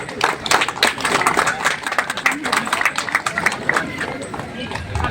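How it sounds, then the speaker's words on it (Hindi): Audience applause at a rainy monsoon marathon prize ceremony in Rangat, with sustained clapping and crowd noise and an announcer talking over it throughout. "जोरदार तालियां।"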